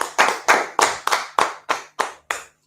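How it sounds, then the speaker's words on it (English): Brisk clapping from an audience at a talk, a run of nine sharp, evenly spaced claps that stop abruptly, with no voices over them. "clap it up."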